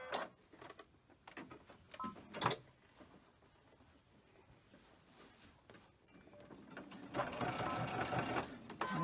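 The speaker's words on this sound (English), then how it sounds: "And just slowly sew it." A sewing machine stitches binding onto a quilt edge at a slow, steady pace, its running hum and rapid needle ticking close and clear, with a few handling clicks and a louder burst of stitching near the end.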